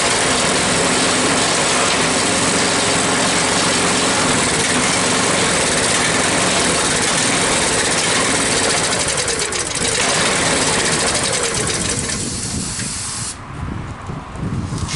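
A small engine runs on fogging oil with a loud, steady high-pitched buzzing drone, its roughness shifting and thinning toward the end.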